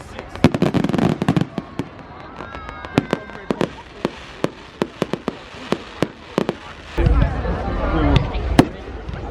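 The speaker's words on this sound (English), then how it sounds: "That's a pretty weak fireworks display." Bonfire night fireworks pop and crack in a scattered series of sharp bangs, some quick clusters and some isolated reports, over a low crowd murmur that thickens near the end.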